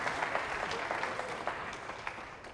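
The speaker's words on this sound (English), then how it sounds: "Round of applause for them." A lecture audience gives a brief round of applause, moderately loud clapping that gradually thins out, with no speech over it.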